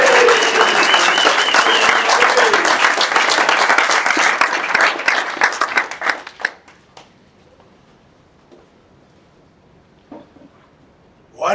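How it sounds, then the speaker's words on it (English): Audience at a live auction applauding for Mark McGoldrick, loud dense clapping with some voice underneath that thins into scattered claps and dies out, followed by near silence with a few faint sounds. "Give him a great round of applause"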